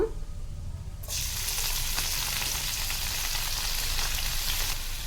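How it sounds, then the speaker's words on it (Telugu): Amaranth leaves hit hot oil and burst into a loud, steady sizzle that holds close and constant after a quiet first second, a dense crackling hiss with occasional stirring. "ఇది తోటకూర వేయించుకోవాలండి"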